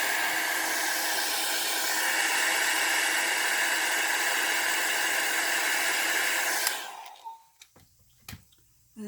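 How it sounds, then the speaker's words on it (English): A heat gun or blow dryer runs loud and close with a steady broadband roar for nearly seven seconds while drying alcohol ink on photo paper, then cuts off, leaving faint small handling noises. "I'll use my heat gun or my blow dryer to dry that."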